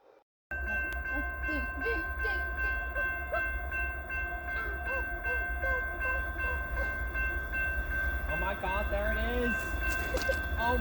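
A freight train rolls steadily past close by, a continuous heavy rumble with droning tones and scattered clanks and squeals, growing busier toward the end.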